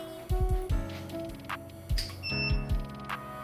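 Several short electronic beeps and tones in quick succession, with clicks and thumps between them, fairly quiet and close.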